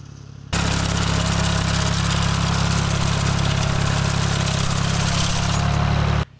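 A tractor driving through dry grass fields, its engine droning loud and steady from start to finish in one unbroken roar, close to the microphone, with no talking.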